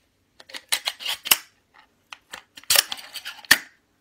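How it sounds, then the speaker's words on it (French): Two 12-gauge shotgun shells are pressed into a Gunner Solutions EZ8 quick-load holder, producing a series of close, sharp plastic clicks and snaps with short pauses between them. "Donc là je prends mes 2 cartouches, comme ceci, je fais comme ça."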